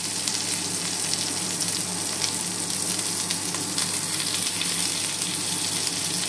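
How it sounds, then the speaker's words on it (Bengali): Onion fries in a little oil, giving a steady, dense sizzle that stays close and even throughout, with no voices. "জাস্ট পেঁয়াজটাকে ভেজে নেব আমি ওই তেলে"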